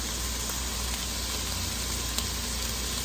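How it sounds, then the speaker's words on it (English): Minced garlic sautes with vegetables in light olive oil for a napa cabbage and bean soup, a steady, even hiss of gentle frying that stays constant throughout with no talk. "just stir that around and let that saute with the vegetables for a minute or so"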